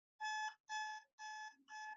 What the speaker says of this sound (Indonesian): Ini adalah alarm digital sehingga tertulis bahwa bahan minyak wangi penuh